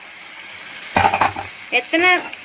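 Ground onion-tomato paste hits hot oil with curry leaves in a pan for capsicum gravy, setting off a sudden loud, close sputtering burst of about half a second over a steady low sizzle, followed by a brief voice.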